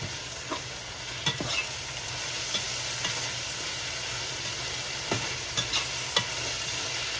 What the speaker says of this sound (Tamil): பச்சை வாட போக இந்த எண்ணெயில் வதக்க வேணும்